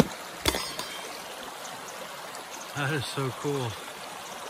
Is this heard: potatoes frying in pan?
no